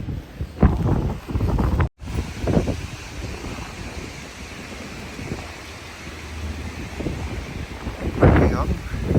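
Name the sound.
strong cold wind blowing snow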